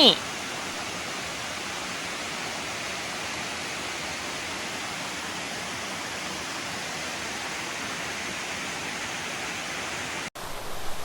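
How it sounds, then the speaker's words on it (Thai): A waterfall at the second tier of a cascade in a Thai national park near Phayao, an even, continuous rushing roar heard steadily and fairly near, cutting off briefly just before the end. "ตอนนี้ฟังก็ถึงน้ำตกชั้นที่สองนะคะ"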